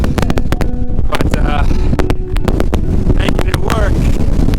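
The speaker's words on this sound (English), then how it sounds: "It's windy as hell" Strong wind in Glacier National Park buffets the microphone with loud, continuous rumbling and sharp gusty thumps, while a person talks close by throughout.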